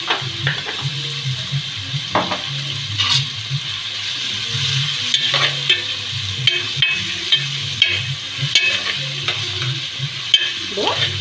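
Chicken biryani masala with turmeric fries and is stirred in a pan, giving a steady sizzle under repeated scraping and clanking strokes of a utensil against the metal.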